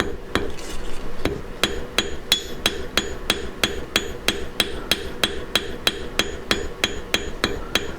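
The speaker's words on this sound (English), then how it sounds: "Overlap my hammer blows," Steady hammer blows forging sterling silver wire into a double reversed shape, about two strikes per second, sharp ringing metallic taps repeating evenly and close up with no talking.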